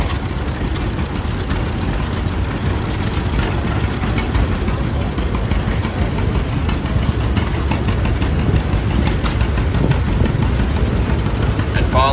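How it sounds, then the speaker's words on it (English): A 1949 John Deere G gas tractor engine runs at a steady idle, a loud, continuous low rumble with a rough, throbbing texture that holds without pause throughout. "Then a 1949 G John Deere owned by Lauren Wimbles of Blinden."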